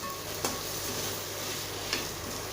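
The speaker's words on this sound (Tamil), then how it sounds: "நல்லா கலந்துக்கோங்க." Vegetables with a little potato frying in ghee for vegetable fried rice, stirred in the pan: a steady soft sizzle with two brief scraping stirs, fairly faint and with no talking.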